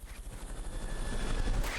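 Helicopter in the video game Metal Gear Solid: Peace Walker, a steady low rotor and engine drone that builds slightly in loudness, heard on its own without talk.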